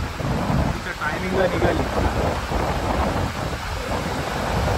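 Heavy rain and gusting wind of a sudden storm on the Arabian Sea roar continuously outdoors, with a brief remark spoken under the storm noise.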